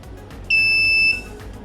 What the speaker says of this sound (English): The system instantly detects the object and sounds a blip.